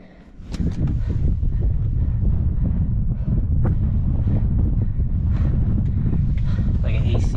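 Strong wind rushing through a wind tunnel, a loud, steady roar with heavy microphone buffeting that swells up after a quieter first half-second, with speech faintly mixed in.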